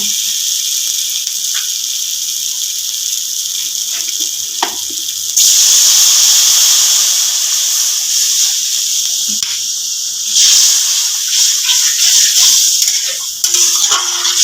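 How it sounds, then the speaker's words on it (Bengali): Water is poured into a hot pan of stuffed potol curry, setting off a loud, close, sustained hiss that swells partway through and keeps sizzling strongly to the end, with no voices. "এখন আমি একটু জল দিয়ে দেব।"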